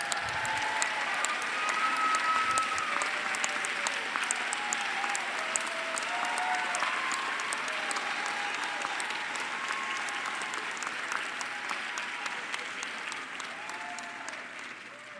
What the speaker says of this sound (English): and get another round of applause.